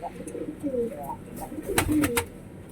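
Several fancy pigeons coo in low, rolling calls close by, with brief sharper clatters and flutters near the end.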